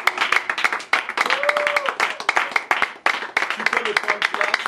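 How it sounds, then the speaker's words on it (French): A church congregation claps loudly and steadily throughout, with cheering voices mixed in and a voice calling out over the crowd. "Est-ce que tu peux acclamer très fort?"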